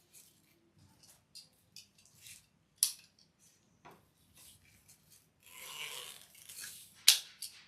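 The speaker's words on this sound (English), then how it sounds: "I'm going to cut one more for this bottom piece." Scissors snip and rub through material while a piece is cut for an Easter swag wreath, a series of soft, irregular close-up cuts and rustles with brief pauses between them.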